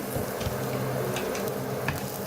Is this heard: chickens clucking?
no